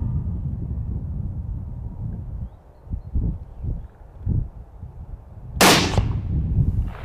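A single 30-06 rifle shot fired with a Geco round at a deer, sounding as one loud, sharp near crack with a brief tail, following quieter outdoor rustling and soft thuds.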